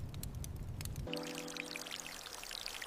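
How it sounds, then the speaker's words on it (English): Water pours from a watering can onto potted plants in the evening, a low gushing rush that gives way to a brighter trickle and splashing with a ringing hollow tone, no talking. "Every evening I water my plants."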